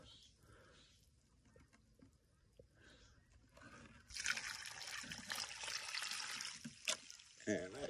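Water poured over newly planted iceplants on a cliff slope, trickling and running off; a soft dribble builds into a louder, steady rushing splash after a few seconds, continuing to the end.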